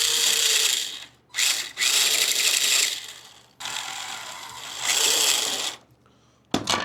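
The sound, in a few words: RC car electric motor running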